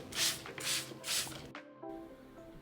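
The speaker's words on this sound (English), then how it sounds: "Lightly spray the surface with your water solution." Three quick hissing bursts from a spray bottle misting water solution onto an acrylic sheet, evenly spaced and close, followed by a brief soft rustle of handling.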